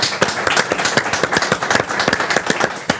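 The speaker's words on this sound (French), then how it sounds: "Eh ben, on peut l'applaudir" A studio audience on a French television set claps in a lively, uneven rhythm, with sharp individual hand claps standing out close by against the broader applause.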